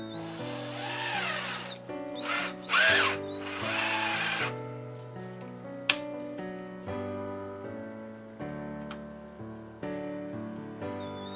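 A power drill reams out the cork grip of a fly rod, whining steadily with shifting pitch and brief surges as the bit is pushed through, close and continuous without speech.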